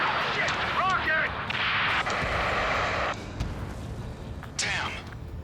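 Incoming rocket in Ace Combat 7: a dense roar of jet engines and combat blasts with whooshing, swooping streaks. Radio voices talk over it throughout, all fairly loud and continuous.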